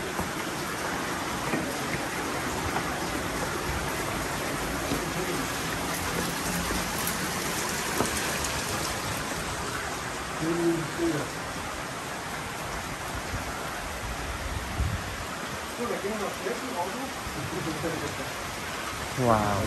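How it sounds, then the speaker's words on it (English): Rain falls steadily at Meteora monastery in Greece, a dense continuous hiss of drops close around, with a few louder patters now and then. "Can you hear the rain?"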